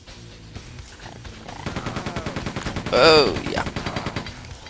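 Machine gun fire in the video game Quake II rattles in a rapid, steady burst of evenly spaced shots lasting several seconds, loud and close, with a brief spoken exclamation over it.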